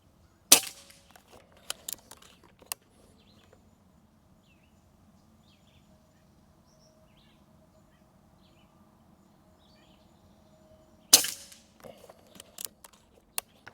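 A PCP air rifle fitted with a moderator fires five shots outdoors, sharp cracks spaced over about a dozen seconds with quiet gaps between them, faint birdsong in the background.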